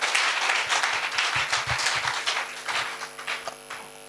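A church congregation at a Friday worship service claps and applauds together, a steady dense wash of hand claps throughout with a few louder individual claps, and no speech over it.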